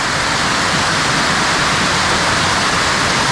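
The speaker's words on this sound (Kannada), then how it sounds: "ಇದೇ ಅದು ವಾಟರ್ ಫಾಲ್ಸ್." A waterfall below a viewpoint on the Munnar to Idukki route, water falling over rocks in a loud, dense, steady roar, close and unbroken.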